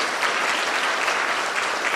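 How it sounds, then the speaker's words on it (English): A dinner audience applauds steadily, dense clapping from many hands filling the room, loud and continuous for the whole two seconds. "Let's give Jeevan a round of applause."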